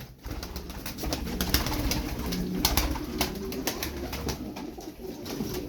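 Pigeons kept as flying and tumbling birds coo steadily in a low, throaty murmur, close and continuous, with scattered clicks and rustles around them.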